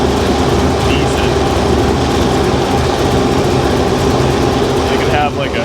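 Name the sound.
supercharged car engine idling in gear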